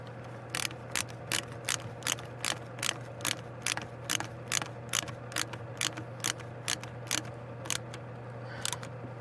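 Ratchet clicking steadily while tightening the screws on a carburetor gasket in a zigzag order, during a rebuild of a 1406 carb: a long run of sharp, evenly spaced close clicks over a constant low hum, with no talking.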